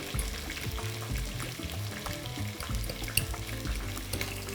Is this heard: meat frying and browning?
yes